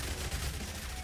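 SMG fire in the Yet Another Zombie Survivors video game, a short burst of rapid, steady shots, loud and close with no pauses.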